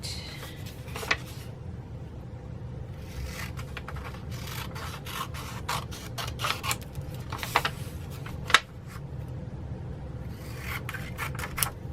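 Scissors trimming a craft container, a series of short crisp snips and rasping cuts spread unevenly over a low steady background hum, close and without talk.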